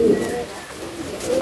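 Pigeons cooing in a loft, short soft throaty coos at the start and end over a low background hum, fairly close, with a voice speaking faintly underneath.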